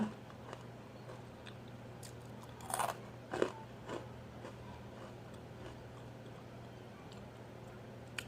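Crunchy baked potato chips from a snack review are bitten and chewed, giving a couple of brief crisp crunches and faint scattered crackles against a quiet, humming background.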